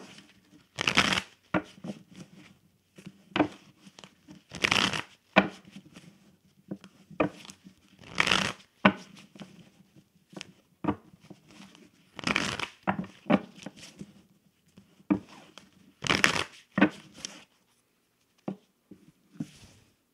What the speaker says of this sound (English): I'm going to shuffle my tarot